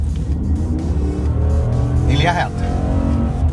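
A Dodge RAM 2500 HD Bighorn 4x4 pickup with a 410 hp V8 drones steadily while driving, with a low engine and drivetrain hum under someone talking.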